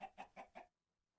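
A baby chicken in a farming video game peeps four quick times in a steady rhythm, then goes silent.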